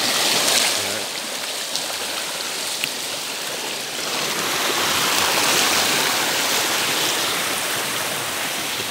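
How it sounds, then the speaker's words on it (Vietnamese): A mountain stream fed by an underground spring flows steadily beside fish ponds in Dak Nong, a continuous broad rushing wash of water that swells slightly midway, with no voices. "Dòng suối này cách đây khoảng 800 mét thì là nó được chảy ra từ một mạch nước ngầm"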